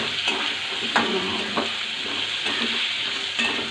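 Potatoes sizzling in a pan while being stirred, a continuous loud frying hiss broken by several clinks and scrapes of a spoon against the pan, with no one talking.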